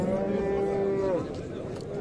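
A young bull or cow at the Osh livestock bazaar lets out one long, loud, close moo lasting over a second, then the market murmur carries on.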